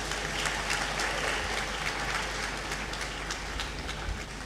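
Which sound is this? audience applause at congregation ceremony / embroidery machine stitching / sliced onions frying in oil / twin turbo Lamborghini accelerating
audience applause at congregation ceremony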